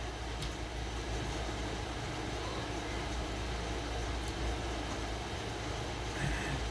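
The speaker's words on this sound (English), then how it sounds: "It's an air conditioner." A steady, broad mechanical hum runs with no pauses, like an air conditioner running nearby, with no talking over it.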